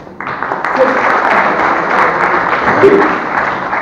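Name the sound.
audience applause at a math lecture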